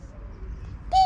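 A voice imitates a bird call, a short, tonal coo-like note at the very end after low background noise, moderately loud and brief.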